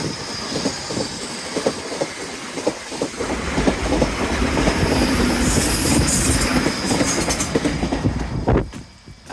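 A train rumbles past in Teignmouth, loud and close, with rhythmic wheel clatter, a rising steady roar and high-pitched squealing wheels before the sound falls away at the end.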